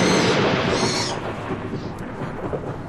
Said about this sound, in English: That storm's getting worse.